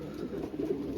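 Racing pigeon cooing in soft, low murmurs, close by and continuous, with steady rain in the background after a 100 km training toss.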